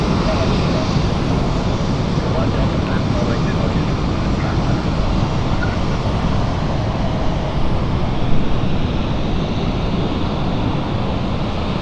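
Aircraft engine noise near London City Airport, a steady broad roar that holds at a constant loud level throughout without clear rise or fall, like a plane passing or running close by.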